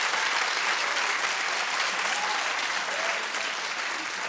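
Steady, dense audience applause at even loudness throughout, many hands clapping together with no voices standing out.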